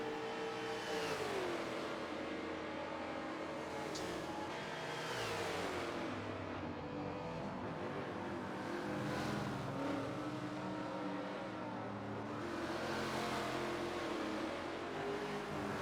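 Mid-engine race cars, a Deltic GT followed by a Lotus, climbing a hill on track, with engines revving and sweeping up and down in pitch as they accelerate and pass, steady and fairly loud without talk.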